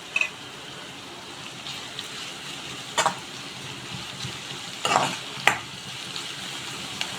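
Spring onions for a palak curry sizzle softly in a pan under a steady frying hiss, broken by a few sharp scraping stirs, close and moderate in level, with no talking.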